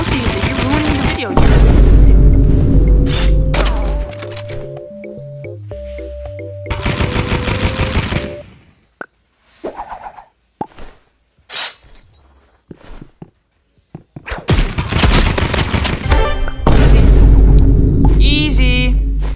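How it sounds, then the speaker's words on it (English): Paintball gun firing in the video game Rivals, loud rapid bursts of shots separated by quieter gaps, mixed with game music and voices. "Paintball gun is on top."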